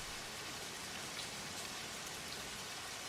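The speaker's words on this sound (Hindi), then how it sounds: "बहुत बारिश भी हो रही है" Heavy rain pours down steadily in a dense, unbroken hiss, loud and close, with no voices over it, the setting a night scene in a Hindi-dubbed horror thriller.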